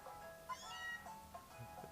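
Cat Pokémon cry in the video game Pokémon Moon, a few short, faint, electronic meow-like chirps set over quiet game music.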